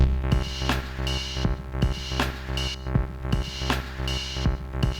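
A synthesizer tone gated by a rectangle-wave LFO pulses on and off in a steady, quick rhythm of about eight bursts, each with a sharp attack, sounding close and clear with no voices.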